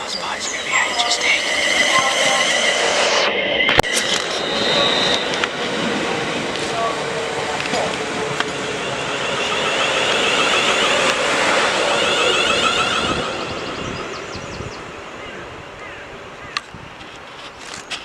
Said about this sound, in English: About to pass by is going to be HST.